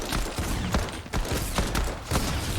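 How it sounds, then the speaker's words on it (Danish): Rapid gunfire crackles in the video game Reload, with bursts of overlapping shots and clattering reports at moderate loudness over a dense background. "Hvilken idiot er det, der står og skyder efter os?"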